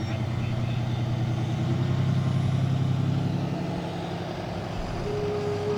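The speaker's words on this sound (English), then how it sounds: "Followed by a pickup truck." Pickup truck rolling past in an outdoor Christmas parade, a steady low engine rumble and road drone that holds level throughout, with a faint tone rising near the end.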